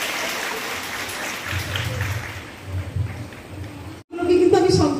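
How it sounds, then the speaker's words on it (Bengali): An audience at a Teachers' Day celebration at Belda Prabhati Balika Vidyapith, a residential girls' school, claps for a student, a sustained rustling wash that fades before a brief break, then a voice speaks up close. "ওর জন্য একটা হাততালি আমাদের বিদ্যালয় পক্ষ"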